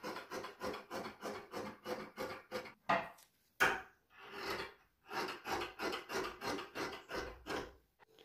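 Scissors cut a shape out of dressmaking fabric in a series of rhythmic rasping snips, close and fairly quiet, with a couple of brief pauses and sharper clicks midway.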